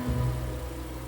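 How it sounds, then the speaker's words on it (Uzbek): An idling car engine running rough and shaking because of clogged fuel injectors, a steady low rumble that holds throughout with a slight swell near the start. "Motorda qaltirashi bu xuddi motor stuk berganga o'xshaydi"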